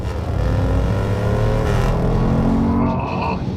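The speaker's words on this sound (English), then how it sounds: "a really manic thunderous 5-litre supercharged V8" A Jaguar F-Pace SVR's supercharged 5-litre V8 engine drones loud and close as a steady deep roar that rises slightly in pitch before easing off near the end.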